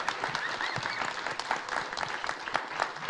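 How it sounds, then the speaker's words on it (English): A conference audience applauds the keynote panelists at a budget policy event, dense continuous clapping from many hands with scattered louder claps, sustained at an even level. "Everybody, a round of applause for our keynote panelists."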